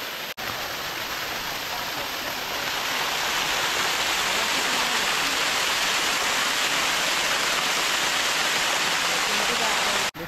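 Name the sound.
waterfall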